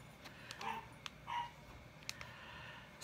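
A dog indoors gives two short barks close together, fairly faint, with a few light clicks and knocks from a quiet room around them.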